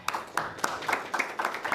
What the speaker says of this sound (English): let's give a round of applause for Liz Campos